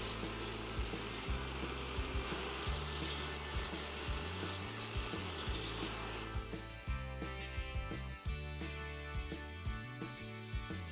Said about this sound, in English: I put the front handle into the drill press and used 120 and 240 grit to remove the old stain.